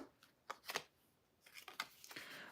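Tarot cards being shuffled by hand before a reading, a few soft papery riffles and flicks in two quick bursts separated by a pause, close and fairly quiet.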